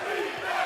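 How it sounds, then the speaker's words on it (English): A basketball arena crowd at the Schaefer Center cheers during a close men's college game, a dense sustained roar that holds steady for a brief moment. "crowd getting louder by the second here at the Schaefer Center"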